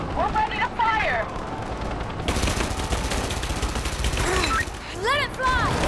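A trebuchet launching in Rise of the Tomb Raider, with a loud rumbling, crashing burst of action noise that swells over several seconds while voices call out.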